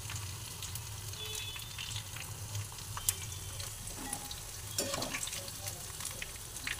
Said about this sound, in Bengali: এইভাবে সম্পূর্ণ কাঁঠালগুলোকে ভেজে নিতে হবে।